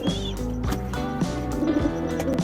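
Domestic pigeons kept through the monsoon rains coo in soft, repeated low throaty calls, close by and steady, with faint chirps mixed in and no talking.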